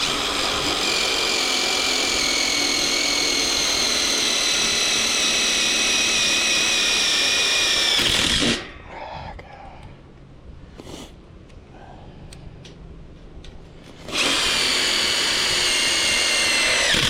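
A power drill drives screws into a steel-tube building truss, running as a loud, steady whine for about eight seconds, pausing for several quieter seconds, then starting up again.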